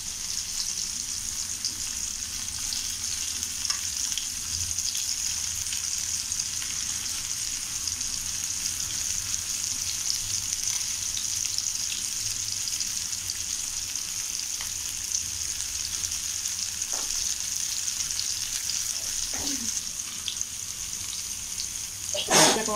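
Fish frying in a pan for an Andhra-style dish give a steady, close bright sizzle throughout, with a few soft clicks and a brief utensil knock at the end.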